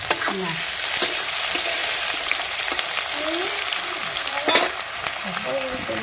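Chicken sizzles and fries in hot oil for a homemade Odia chicken curry, with a steady loud crackle and intermittent stirring scrapes throughout, and no talking.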